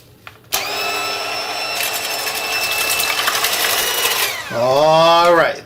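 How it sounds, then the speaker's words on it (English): Eggs being beaten until foamy with an electric mixer, a steady motor whine running throughout with a brief heavier surge near the end; a voice is briefly audible. "now we're going to beat the eggs"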